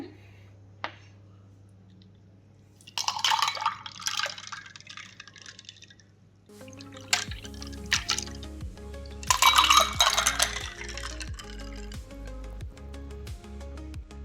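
Kala khatta sharbat syrup poured into a glass, heard as drips and liquid splashes in two bursts with light clinks of glass, close and fairly clear, with a low steady hum underneath and no talking.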